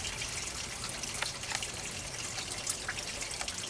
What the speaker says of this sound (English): That's the siphon. I mean the bell siphon.